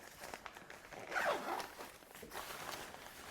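The pit zip on an Arc'teryx Beta SL shell jacket is pulled in one close, rasping zipper run, preceded and followed by soft fabric rustling.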